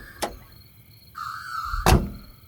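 A black sedan's car door opens with a sharp thunk, then a brief squealing creak, and ends with a second heavier clunk, all close by against a quiet background.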